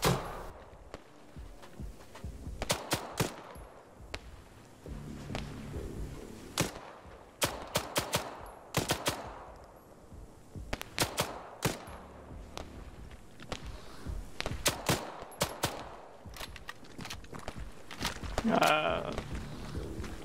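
Gunfire aimed at zombies in a Halloween horror video game: sharp shots crack out in irregular clusters across the whole stretch, mixed with game ambience and some talking voices.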